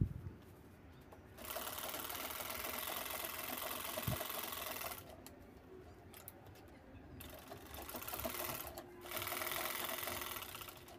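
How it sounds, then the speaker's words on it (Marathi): A sewing machine stitches along both sides of a turned shell-shaped bag in steady bursts, running loud for a few seconds, pausing briefly, then starting again, close by with no talking. "त्यानंतर बॅग उलटवून दोन्ही साईडच्या शिवून घ्यायच्या आहेत"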